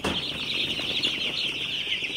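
Broiler chicks in a brooding pen give a dense, continuous chorus of high peeping that carries on without a break.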